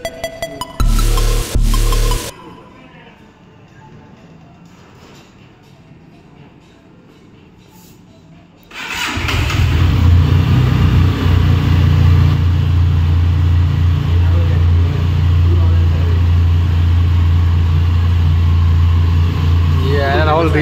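A brand-new KTM or Benelli motorcycle engine fires up after a few sharp knocks and a quiet pause, then settles into a loud, steady, rumbling idle close by that continues to the end.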